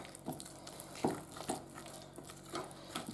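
Cake batter being mixed by hand in a home kitchen, giving soft scraping and stirring knocks in an irregular rhythm, fairly quiet and close with no talk.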